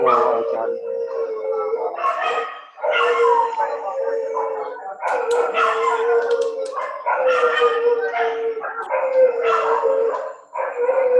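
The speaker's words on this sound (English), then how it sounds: "Have a lot of dogs barking right now." Many dogs bark and howl together nearby in long, overlapping waves of yips and drawn-out howls, loud and continuous with short pauses, a remote meeting with its noisy background.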